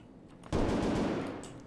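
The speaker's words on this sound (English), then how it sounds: "Already some shots." Gunfire in the video game Escape From Tarkov starts abruptly as a loud, dense burst that holds and slowly fades, heard alone without talk.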